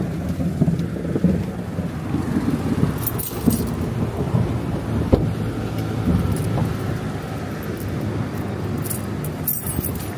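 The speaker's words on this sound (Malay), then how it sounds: "Gigil hujan." Steady rain in Hat Yai, Thailand, hisses continuously with a low rumble underneath, a few sharp knocks and rattles standing out now and then; no one speaks.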